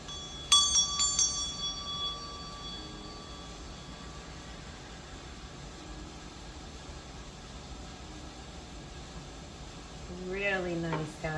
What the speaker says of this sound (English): let's go on ahead and ring the meditation bell